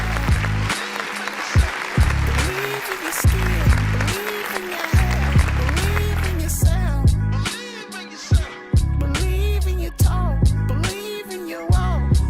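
A lone listener claps along to loud music playing back, a steady stream of hand claps blended into the beat and vocals for several seconds before the music carries on.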